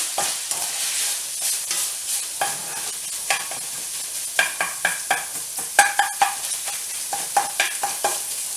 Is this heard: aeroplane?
no